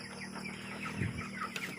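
Soft chicken clucks over a steady background hum, a few short calls close together.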